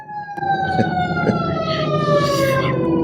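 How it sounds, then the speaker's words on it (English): A fire truck siren wails loudly and steadily, its pitch sliding downward as it passes nearby, with traffic rumble underneath. "if you hear that ambulance, a fire truck in the background"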